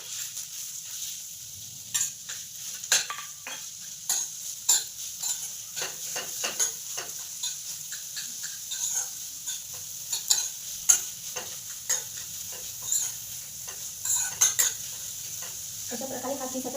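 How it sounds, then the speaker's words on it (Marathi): Grated bottle gourd is stirred and roasted in hot ghee, a soft steady sizzle under repeated scraping taps of a spoon against the pan. "अशा प्रकारे हा किस आता 2 मिनिटं परतायचा."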